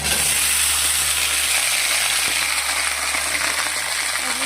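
Onion and bay leaves fry in a pan for a potato, jackfruit seed and chickpea curry, giving a steady close sizzle with a constant hiss and no voices.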